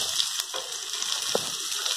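Sliced onions fry in hot oil for kudal fry, giving a steady close sizzle and hiss that runs unbroken, with a few faint clicks from the pan.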